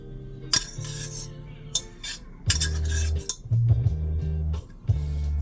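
Instant Ajinomoto Oyakata Korean BBQ yakisoba noodles being teased apart with metal utensils, giving close clinks and scrapes against a dish in short irregular bursts.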